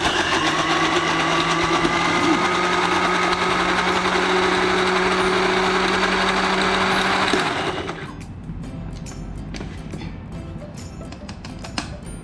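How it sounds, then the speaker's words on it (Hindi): A kitchen blender grinds dry ginger powder in a loud, steady, high-pitched whir that runs for about seven seconds, then cuts off, leaving quieter rattling and clicks, with no talking. "अब इसको ब्लेंड कर लेना है।"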